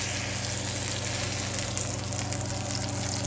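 Mahi mahi fillets sizzling in a hot pan as they crisp and brown, a steady, close, even crackling hiss with no voices.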